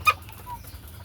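A single short cluck from a chicken on a poultry farm, fairly close, followed by quiet low hum and faint background bird noise.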